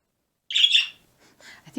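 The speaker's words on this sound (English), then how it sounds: "I wonder if they can hear the birds outside." Birds outside call with one sharp, loud squawking chirp, followed by a few fainter, brief chirps near the end, heard alone against near silence.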